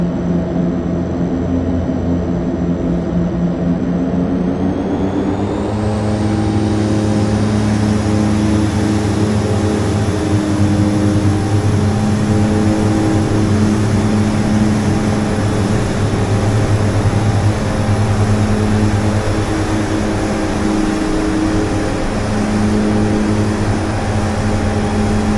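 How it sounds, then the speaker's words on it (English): A propeller aircraft in a flight simulator game drones steadily at idle, then its engine note rises sharply as power comes up for takeoff and settles into a loud, even roar that continues without talk. "We're going to do the takeoff."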